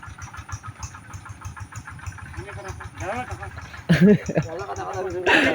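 A tractor engine chugs in a steady rhythmic throb close by, with people talking loudly over it outdoors.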